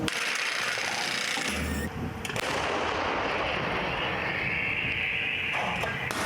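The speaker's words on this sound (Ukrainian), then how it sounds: "Богдана зберігає точність стрільби навіть на великих дистанціях, кажуть артилеристи." A Bohdana self-propelled howitzer fires, producing a loud, close, continuous roar of blast noise with a brief dip around two seconds before the rumble resumes. No voices are heard.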